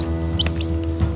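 Free-range village chickens cluck and chirp close by in short, overlapping calls over a steady low hum, with a few brighter peeps scattered through the moment.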